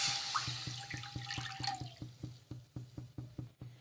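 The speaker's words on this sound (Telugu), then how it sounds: "ముందుగా ఒక కడాయి అయితే పెట్టేసుకొని అందులోకి 1 కప్పు నీళ్ళు అయితే వేసుకోవాలి" About a cup of water is poured into a kadai pan in a home kitchen, a splashing stream for roughly two seconds that tapers into lighter trickles and drips, heard close and alone without any voices.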